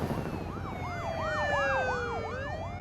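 Ambulance and police sirens wail from emergency vehicles in The Walking Dead video game, several overlapping sweeping tones rising and falling rapidly over a low rumble, moderately loud and steady, with no talk.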